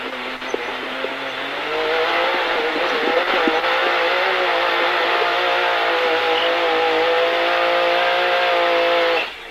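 A Dakar 2025 rally car engine holds a steady, loud drone after a brief rise, its tone climbing slightly then staying level for several seconds before cutting off, close and continuous with no voices.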